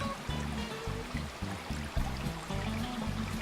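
Small woodland stream trickling over stones, a quiet, close, continuous bubbling and gurgling flow with slight rhythmic pulses, with no voices present.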